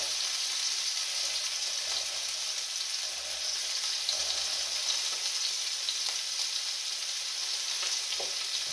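A piece of meat sears in a hot pan to brown the outside, a loud, continuous close-up sizzle with faint stirring ticks throughout and no voices.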